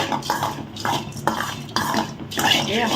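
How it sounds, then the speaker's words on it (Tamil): Puffed rice is tossed with masala in a metal pan, making a brisk, close scraping and rustling with light clinks of a spoon against the vessel in quick repeated strokes. "இந்த பொரி வந்து நல்லா மசாலா மிக்ஸ் ஆகட்டும்"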